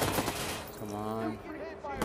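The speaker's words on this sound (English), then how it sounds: "Is this the grenade launcher again? Yep, it is." Weapon fire from a grenade launcher in the Watch Dogs Bad Blood video game, a few loud bursts and thumps at the start and end, with a voice speaking over the middle.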